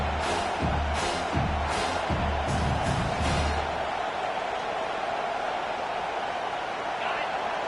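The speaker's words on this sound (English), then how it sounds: "Defense getting a boost from this crowd on 3rd and long." A stadium crowd roars at a football game on third and long, a loud sustained wash of cheering with rhythmic rumbling pulses early on, while a commentator talks.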